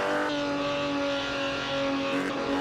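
A 1948 Ferrari race car in a driving simulation roars steadily from an outside view, its engine holding a loud, constant tone with a slight pitch shift near the end.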